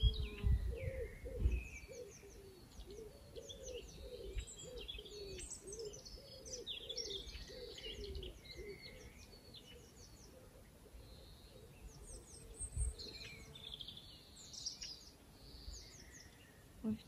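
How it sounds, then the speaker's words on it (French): Birds chirping and singing outdoors, with quick high tweets scattered throughout and soft cooing like a dove underneath, all faint and somewhat distant over quiet background noise. "Toujours pour écouter le bruit des oiseaux si vous avez la chance d'en avoir comme moi."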